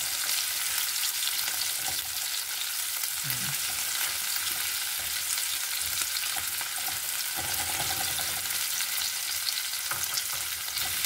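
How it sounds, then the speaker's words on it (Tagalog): Steak fries in a pan with a loud, steady hiss that carries on without a break, with faint clinks now and then and no talk. "Pagkatapos nyan, sisunod ko na agad ang ating steak."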